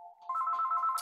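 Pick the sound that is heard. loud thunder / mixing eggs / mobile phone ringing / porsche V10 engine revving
mobile phone ringing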